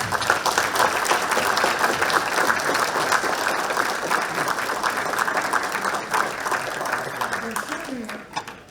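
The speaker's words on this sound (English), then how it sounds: "Can we please give a round of applause?" Dense, sustained applause from an audience at a school hall of fame ceremony fills the room for about eight seconds, steady and fairly loud before it begins to fade at the end.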